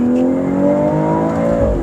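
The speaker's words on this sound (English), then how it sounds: "that's a gear 3 pull, that's a gear 2 pull going into gear 3" A 2023 BMW X3 M40i accelerating hard through second into third gear, a loud, close engine note climbing steadily in pitch, easing briefly at the shift and then pulling on, with no talking.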